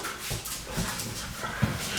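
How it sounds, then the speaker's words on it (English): Dogs playing behind a person crocheting, with faint whimpers and a few soft yips over a steady background hum. "I have my dogs behind me and they just decide to start playing now when I need quiet."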